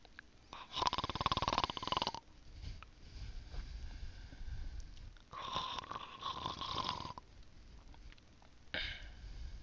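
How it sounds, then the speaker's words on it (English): A ticket booth attendant at a minor station in a video game snores in slow repeated cycles, several long rasping breaths separated by quieter pauses, with no talk. "the only person in sight is the attendant at the ticket booth, and he's currently snoring"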